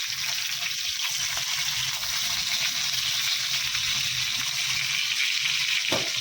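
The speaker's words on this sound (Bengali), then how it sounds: "এখন মাছ ভাজছি, মাছের সর্ষে তেল" Fish frying in mustard oil in a pan gives off a steady, close, dense sizzle that continues evenly throughout, with a brief sharper crackle near the end and no talking.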